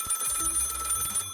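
A telephone rings in the video game Glory Greatest Kingdom with a steady, bright electronic trill that fills the moment and stops abruptly at the end.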